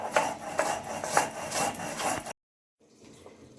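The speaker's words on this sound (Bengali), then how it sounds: "এবারে এই বড়ি আর লঙ্কাটা আমি বেটে নেব ভালো করে।" Fried lentil dumplings and chili are ground into paste, heard as rhythmic scraping and rubbing strokes repeated close up for a couple of seconds, then a sudden silence and faint rubbing.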